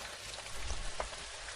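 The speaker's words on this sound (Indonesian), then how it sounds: "Kok hujannya deras banget sih?" Heavy rain pours down in a steady, dense hiss with no talking.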